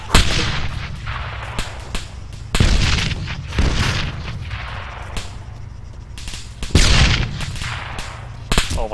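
Gunfire in Arma 3, a shooter game: heavy booming shots, some in quick clusters and others spaced apart, loud and close, each with a rumbling tail over ongoing battle noise.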